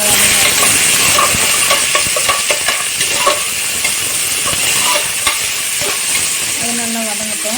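Onions sauté in a pan for chana pulao, with a loud steady hiss and sizzle and repeated spoon clinks and scrapes, and a brief faint voice near the end.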